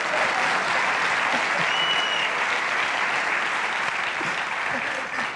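Studio audience applause on a 2000 Turkish television talk show, a loud, continuous wash of many hands clapping that holds steady throughout, with faint voices underneath.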